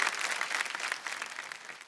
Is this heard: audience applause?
yes